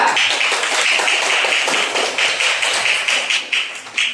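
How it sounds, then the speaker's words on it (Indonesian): Classroom audience clapping for a student group at an Islamic senior high school, a steady close patter of many hands with slight rhythmic swells, continuous throughout without talk. "Tepuk tangan untuk kelompok 2"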